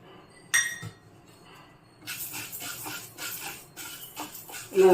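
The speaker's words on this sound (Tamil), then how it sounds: "ஒரு கப் பாசி பயிர் எடுத்துட்டுருக்கேன் இதை போட்டு நம்ம நல்லா வறுக்கலாம்" Split mung beans dry roasting in a pan give a steady, close run of light rattling clinks and taps from about halfway through, with a sharper knock just before.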